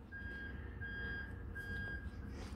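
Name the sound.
lorry reversing alarm beeping outside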